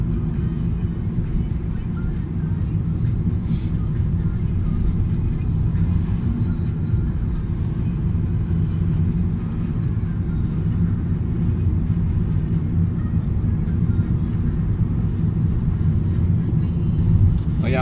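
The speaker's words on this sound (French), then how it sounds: "ça commence à faire beaucoup de bruit, hein, quand on roule sur le goudron avec les pneus cloutés" Steady, loud low rumble of a car rolling over asphalt on studded tires in Finland, a constant droning road noise with no breaks.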